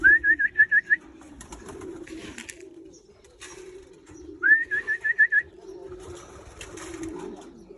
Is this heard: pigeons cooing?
yes